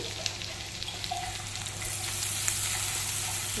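Crushed ginger and garlic frying in hot oil in a pan, a steady close sizzle with faint crackles, slowly building, no voices.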